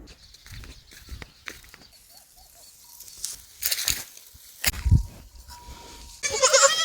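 Goats bleat on a farm, several short cries scattered among rustling, thumps and background noise, fairly close and loud near the end.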